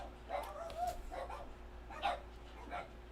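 Dogs in a home bark and yip in several short bursts, fairly faint and somewhat distant, with a steady low hum underneath.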